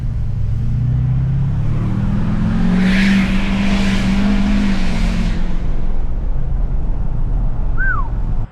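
An LML Duramax diesel pickup truck engine rumbles steadily on pavement and swells as it accelerates, a loud continuous drone with a brief rising whine near the end.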